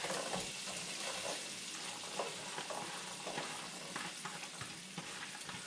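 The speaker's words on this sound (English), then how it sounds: "Now once my butter gets hot, I'm going to go ahead and put a half of that chopped up onion in there." Half a chopped white onion frying in hot butter in a pan, a steady close sizzle and crackle with a few small pops throughout and no talking.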